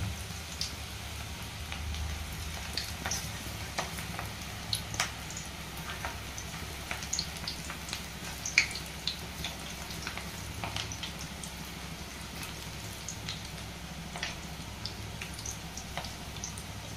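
Onion pakodas fry in oil on a low flame with a steady, crackling sizzle and scattered pops and spits, continuous and close, with no voices.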